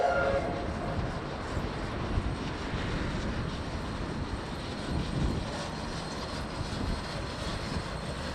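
Heritage steam locomotive 644 pulling away on the return run from Fielding toward Palmerston North, running bunker first in turning weather: a broad, steady rumble with chuffing texture, moderately distant and fairly faint.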